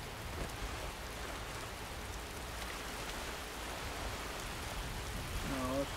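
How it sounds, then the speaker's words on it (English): Steady rain in the video game Skyrim hisses softly in the background, a faint even patter with a brief tonal blip near the end. "The rain's picking up."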